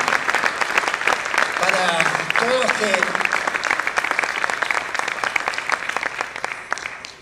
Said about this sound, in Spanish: un aplauso grande para este gran trovador